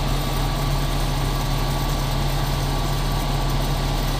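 A heavy IH 7000 sugarcane harvester engine runs steadily, a loud continuous drone with a low hum that never lets up.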